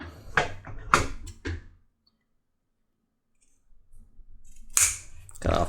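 A short piece of lace cord is snipped with sharp crisp cuts, then near silence, then more clipping and handling noise up close.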